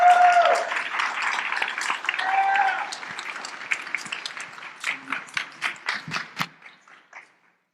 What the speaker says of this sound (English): Give a round of applause for Rangers, please.